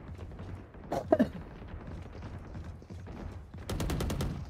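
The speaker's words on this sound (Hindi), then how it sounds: "मेरी गोली चली लेकिन उसमें लगी नहीं" Gunfire in the GTA roleplay game: a pair of sharp shots early on, then a rapid volley of automatic fire near the end, heard over steady in-game background noise.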